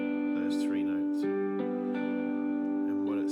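Clean electric or acoustic guitar picking a three-note triad from a G-shaped barre chord, the notes ringing and sustaining one after another, close and clear with no talking.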